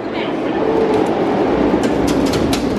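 Inside a metro station, a continuous train rumble and hiss of the platform fill the space, loud and close, with people talking over the steady noise.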